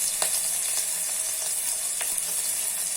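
Onion frying in oil with cumin, mustard seeds and curry leaves, an even close sizzle with scattered sharp crackles and pops, no speech.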